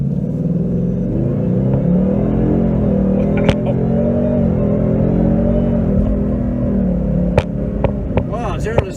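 A supercharged Whipple 2018 Ford Mustang GT accelerates hard, its loud, deep engine drone rising steadily from inside the car, with a few sharp clicks and knocks near the end.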